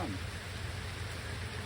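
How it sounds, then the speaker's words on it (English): Light rain begins falling outdoors beside a beekeeper's hives, a steady, soft, even hiss of drops with no distinct thunder. "Oh, it is raining."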